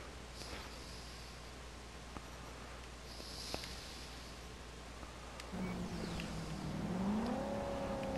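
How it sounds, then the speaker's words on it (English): A car engine in the video game Cyberpunk 2077 drones at low volume as steady road and motor noise, with a rising whine near the end and no talk. "just to cool the engine noise a little bit"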